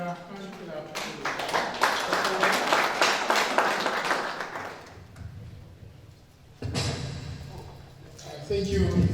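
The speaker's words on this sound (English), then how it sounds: "Can we give another hand clap to" Hands clapping from an audience at a training event after a presentation, a sustained burst of applause lasting a few seconds, followed by quieter thumps and a voice talking.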